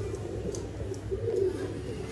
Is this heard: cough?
no